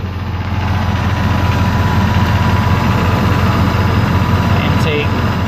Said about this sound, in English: Sounds pretty throaty. Definitely sounds like a V8 now.